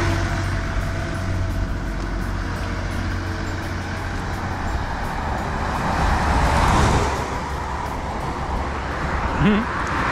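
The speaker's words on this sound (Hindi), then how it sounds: "एक गाड़ी आ रही है।" A vehicle passes along a highway on the way toward Mysore, its engine and tyre noise swelling near the middle and fading again over a constant background rumble of road traffic.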